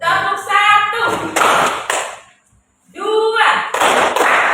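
A classroom clapping game: sharp hand claps in quick bursts, close and loud, with a person speaking just before and between them.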